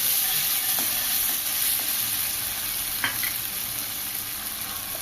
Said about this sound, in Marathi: काही सेकंदासाठीच परतून घ्यायचं आहे त्याच्यानंतर कोथिंबीर गॅसची फ्लेम मी आता पूर्ण कमी केलेली आहे